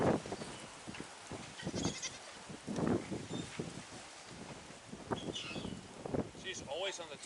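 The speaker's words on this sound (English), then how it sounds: "Happy goats. Happy, happy goats." Goats bleat several times at close to moderate distance amid outdoor background noise, with people talking quietly at times.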